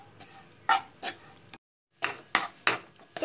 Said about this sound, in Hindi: इसे आप लगातार चलाते हुए भून लें धीमी आँच में